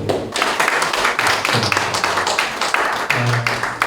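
Audience applause at a joint memorial service in a Catholic education hall, a dense, steady patter of many hands clapping at close range, with a brief low voice tone near the end.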